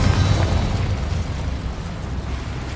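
The Confringo blasting spell explodes in the Hogwarts Legacy video game, a loud, sustained rumbling blast with heavy low-end roar that holds steady for a few seconds before easing off slightly.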